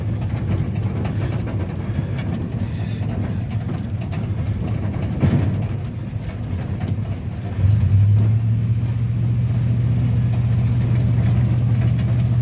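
A 1970 Dodge D200 pickup, off the road for 25 years, drones steadily as it drives, a loud low engine rumble with a deeper tone stepping in partway through.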